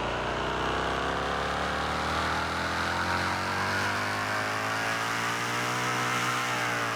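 A V8 car engine in the Roblox game Fix it Up revs on a dyno, its tone climbing smoothly and steadily for several seconds over a constant low drone, loud and alone.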